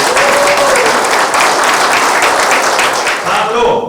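Loud, close applause from the audience at the inauguration ceremony of the Yongsan district council of the Advisory Council on Democratic and Peaceful Unification, a thick continuous clapping that carries on steadily before a brief speaking voice near the end.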